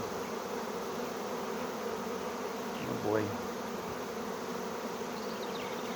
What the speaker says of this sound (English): I'm just going to try to lift that other group of bees in there and get them in.